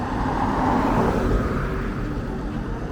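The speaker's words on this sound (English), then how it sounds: "And a lot of big trucks on the road too." Traffic rolls along the main road of a small Cambodian town near Koh Ker, with big trucks passing: a steady low rumble that swells and fades as heavy vehicles go by, fairly close.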